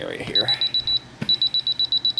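Moisture meter probe pressed into urine-soaked carpet gives out rapid, high electronic beeps in two quick bursts, with a brief clunk between them.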